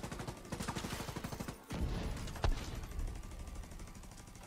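Rapid automatic turret gunfire in The Division 2, a dense run of evenly spaced loud shots that breaks off briefly and resumes with a heavier blast, close and continuous with no talk.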